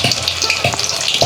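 Lote fish pakoras fry in a large amount of hot oil, giving a loud, dense, continuous sizzle and crackle close up, with no voices.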